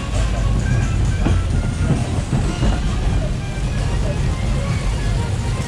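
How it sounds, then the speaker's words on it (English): Journey to Atlantis roller coaster at SeaWorld climbing its second lift hill, a steady loud rumble and rattle of the train with faint clickety-clack, overlaid by riders talking nearby. "this ride kind of turns into a roller coaster from here on out. We get a second lift hill."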